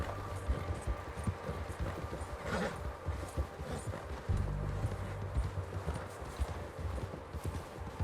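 Rhythmic clip-clop of horse hooves at a steady gallop in the video game Red Dead Redemption 2, close and continuous, with faint ambient noise beneath.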